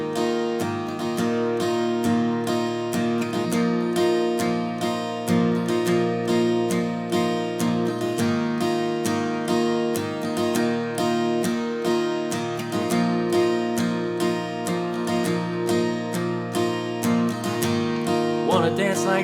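An acoustic guitar strums the intro chord progression of a worship song in a simple, easy strum pattern, a steady rhythmic run of bright chords played alone at moderate volume throughout.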